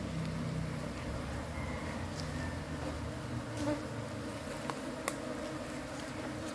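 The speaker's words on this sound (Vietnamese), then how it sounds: "Một khi mà dập bánh tổ kiểu này thì đàn ong, cái tổ ong nó sẽ rất là hung dữ." Honeybees buzz steadily around a hive that has been disturbed, a dense, continuous drone of many insects close by with no voices.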